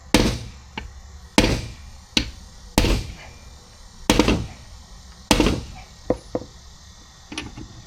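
A hammer strikes a socket during rear suspension work on an S10 pickup, with about eight sharp metallic blows at an uneven pace, close and loud, interspersed with a few lighter taps.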